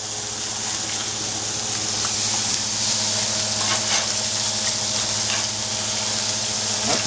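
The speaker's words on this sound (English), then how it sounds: "Okay, we're gonna flip these steaks." Steaks searing in a hot skillet give a steady, loud, close sizzle and crackle that runs without a break, with faint stirring and spattering throughout and no talking.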